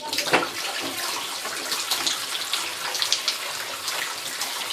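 Water gushes steadily from a broken, leaking tap during a DIY repair, making a loud, close, continuous splashing hiss with no talk.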